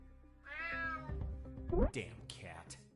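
A cat meows in the retro-style action game Unmetal, a drawn-out, wavering cry followed by a couple of sharper yowls over a low musical background.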